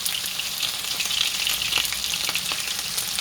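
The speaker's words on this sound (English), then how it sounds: "For now, I'll put some onions" Onions sizzling in hot oil make a loud, steady, close frying hiss with faint crackles scattered throughout, and no one speaks.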